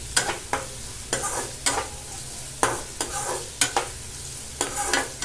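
Onions sautéed and stirred in a hot pan for egg rice, with a steady close sizzle broken by repeated scraping stirs of the spoon every half second or so.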